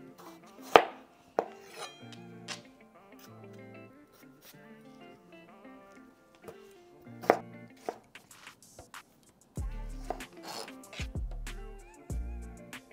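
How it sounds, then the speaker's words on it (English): Knife quartering fresh tomatoes for Vietnamese crab meatball noodle soup, with sharp chops and board knocks spaced irregularly over a soft background, close and moderately loud. "So for the tomatoes, we're just gonna quarter them."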